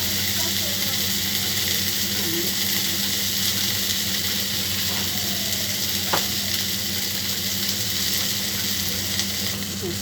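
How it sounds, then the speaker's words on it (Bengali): Chopped green chillies fry with onion and ginger-garlic paste in a pan, giving a steady, close sizzle with occasional stirring clinks. "এবার দেবো কুচিয়ে রাখা কাঁচা লঙ্কা"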